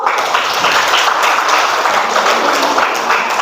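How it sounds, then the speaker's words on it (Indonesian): A class of students claps together at a teacher's request, a dense steady patter of many hands filling the room at even loudness throughout. "Boleh beri tepuk tangan dulu"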